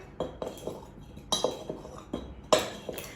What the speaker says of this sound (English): You're gonna lightly mix those together.